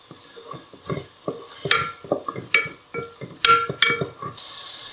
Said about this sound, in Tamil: இது ஒரு 2 நிமிஷம் மீடியம் ஹீட்ல நல்லா வதங்கணும்.